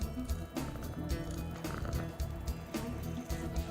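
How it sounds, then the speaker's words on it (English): A large cat purring in the video game Spyro 2, a steady low rumbling throb that pulses in an even rhythm of about two beats per second, moderately quiet and heard without talk. "I promise that's the game purring and not me."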